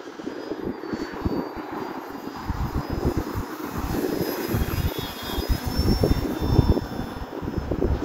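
A radio-controlled model airplane's engine drones continuously in flight over a snowy field, with a steady buzzing whine and fluctuating loudness as the plane passes, heard alone.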